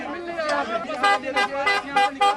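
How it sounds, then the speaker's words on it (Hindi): A car horn honks repeatedly in short bursts outside a house gate during a political visit in Bihar, India. The horn sits close and loud amid crowd chatter and a reporter's voice. "गाड़ी का हॉर्न बजा रहे हैं"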